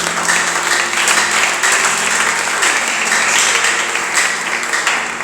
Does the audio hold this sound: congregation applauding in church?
yes